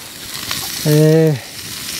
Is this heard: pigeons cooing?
no